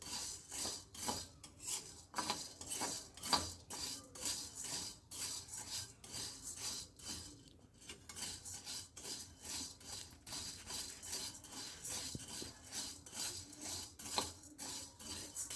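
Sabudana sago pearls are roasted in a pan: rhythmic, close scraping and rasping of a spatula against the pan, repeated in quick strokes with short pauses, without speech.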